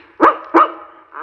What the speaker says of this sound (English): a very good friend of mine, Arfie, the doggy in the window